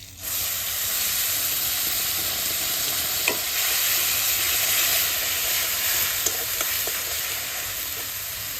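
Whole cumin, a bay leaf, slit green chili and onion paste fry in hot oil for a Bengali pona fish curry, a steady close sizzle and hiss with a few stirring clinks, no talking.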